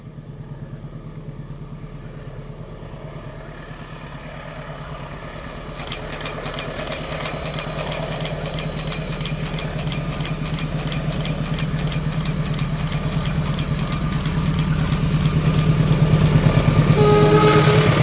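The Fajar Utama Jogja passenger train rumbles past in Tumiyang, Banyumas, Indonesia, its steady engine drone joined by a rapid rhythmic clatter of wheels that grows louder toward the end.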